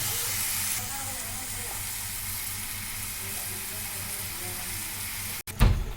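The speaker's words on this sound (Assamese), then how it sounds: "নাৰিকলখিনি কিছু সময় এনেকৈ ভাজি থাকিব লাগিব।" Grated coconut and jaggery fry in a pan, giving a soft steady sizzle and hiss at low volume with no talk, until a brief clatter near the end.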